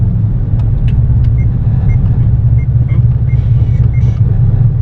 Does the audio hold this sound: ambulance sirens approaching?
no